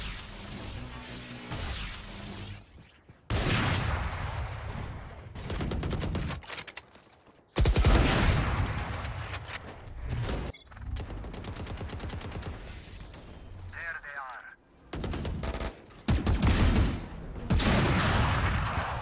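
Gunfire in the video game Valorant, with loud bursts of rapid shots and single cracks separated by short quiet gaps, close and punchy, and almost no talk over it.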